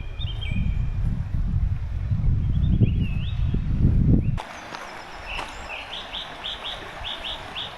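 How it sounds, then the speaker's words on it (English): Birds sing and chirp in a windy riverside valley, repeated bright tweets and whistles heard faintly beneath heavy wind rumble and footsteps at first, then clearer and more regular once the wind drops, with no talking. "Let's go and listen to those birds."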